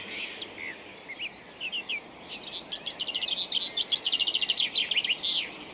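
A chaffinch sings in the early morning: a few short chirps, then an accelerating series of rapid trilled notes ending in a flourish, clear and moderately close over faint background hiss.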